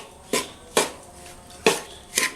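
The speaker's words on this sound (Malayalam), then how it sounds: "അപ്പോൾ മീഡിയം ഫ്ലെയിമിലിട്ടിട്ടാണ് ഇപ്പോൾ ഞാൻ ഇളക്കിക്കൊണ്ടിരിക്കുന്നത്." A spoon knocking against a pan on the stove over medium flame while avalose podi, a roasted rice-and-coconut powder, is stirred: four sharp, evenly spaced metallic clinks with soft scraping between.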